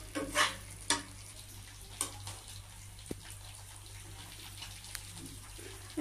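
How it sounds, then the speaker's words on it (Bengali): Spice paste being stirred in oil in a pan, with soft scraping and a faint sizzle over a steady low hum, plus a few light clinks of the utensil. "তেল ছেড়ে দেওয়া পর্যন্ত নাড়তে হবে"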